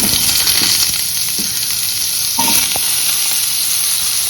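Potato and pumpkin frying in oil with cumin seed tempering, cinnamon and clove in a home kitchen, a steady close sizzle with a few scraping stirs partway through.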